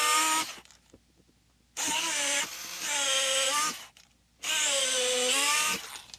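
A power drill bores into drywall in three long, close whining runs, its pitch rising and falling as it bites in, with brief quiet gaps between the runs.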